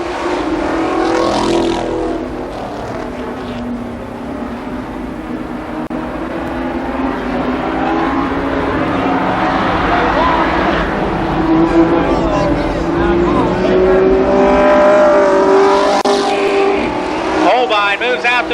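Sprint cars race at Columbus Motor Speedway, a loud, continuous engine roar with rising and falling pitch as the cars sweep around the track, joined by crowd noise, with a voice talking over it.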